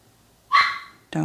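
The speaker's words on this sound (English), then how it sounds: "someone's barking down there." A dog barks once, a sharp nearby bark that trails off, followed quickly by the start of another bark.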